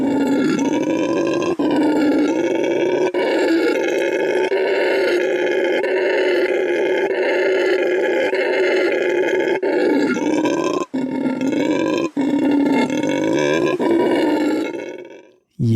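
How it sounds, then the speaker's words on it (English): A howler monkey howls in long, deep, roaring bursts, repeated in a steady rhythm and loud and close, with no talking over it until it cuts off at the end. "This is what a howler monkey sounds like."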